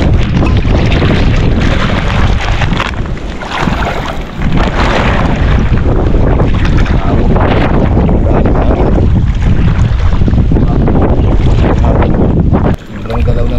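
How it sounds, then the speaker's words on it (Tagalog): Strong wind roars across the microphone without pause beside choppy water, a heavy, blustery rush that buffets the recording from start to finish. "Malakas ang hangin"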